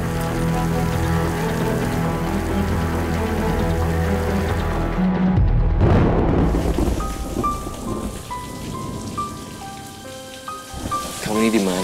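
Steady rain falls through a night scene in an Indonesian drama, a dense hiss running under background music that swells and breaks off partway, with a low rumble beneath.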